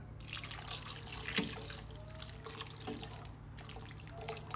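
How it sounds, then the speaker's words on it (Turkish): Cold water is poured into a pot of chestnuts, making a soft, steady splashing and trickling with a few faint drips. It is quiet and close, with no talking. "Üzerine geçecek kadar da soğuk su koyacağız şimdi."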